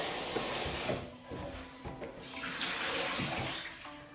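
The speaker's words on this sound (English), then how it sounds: "this is the best way of cleansing your Callaloo, cleaning your Callaloo before you even cut it up" Callaloo greens are swished and rinsed in a basin of cold salted water, with soft sloshing, dripping and running-water splashes rising and falling over a few seconds.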